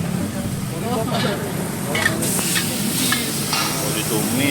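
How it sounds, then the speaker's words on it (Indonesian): A spatula stirs and scrapes a filling in a hot sizzling pan, a continuous frying hiss with clattering scrapes, while voices murmur faintly beneath. "oh ditumis isiannya."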